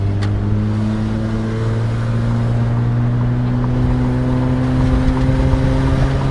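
Steady engine drone of a high-mileage Toyota car bought from a salvage auction, driving and rounding a corner, a continuous close mechanical hum with little change in level.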